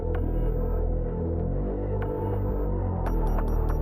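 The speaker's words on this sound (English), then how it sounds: "Then the bass synth fills in the hole in the low mids." A deep, throbbing synth bass pulses steadily beneath electronic music from a Doom game soundtrack, filling the low mids, with faint clicky ticks flickering up high.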